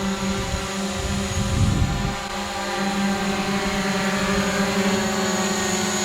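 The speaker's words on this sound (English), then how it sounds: "So while I'm running, the drone is following me." A camera drone hovers and follows a running person on auto-tracking, its steady multi-tone motor and propeller whine holding close throughout, with a brief louder thump of movement near the start.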